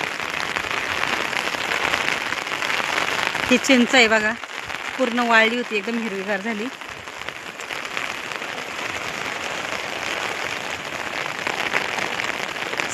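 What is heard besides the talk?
heavy rain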